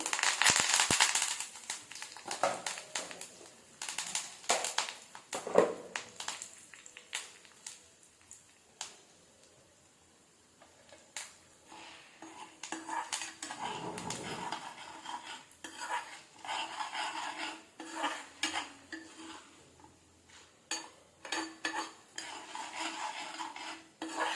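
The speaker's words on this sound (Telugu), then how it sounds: "ఇప్పుడు అదే ఆయిల్లో కొన్ని పప్పులు వేసుకుంటున్నాను" Lentils and curry leaves crackle and pop in hot oil, with bursts of spluttering and a spoon clinking against the pan, then quieter frying.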